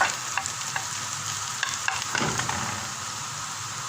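Chicken stir-fried in a pan for a coriander chicken dish gives a steady, close sizzle broken by a few light spatula clicks and scrapes, with no voices.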